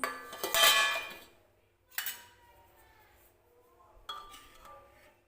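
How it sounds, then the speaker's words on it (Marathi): Cooked stuffed brinjal being served from a pan onto a plate, giving three separate bursts of utensil clinks and scrapes against metal and ceramic, close and fairly loud, with quiet pauses between them. "मी तुम्हाला प्लेटमध्ये काढून दाखवते"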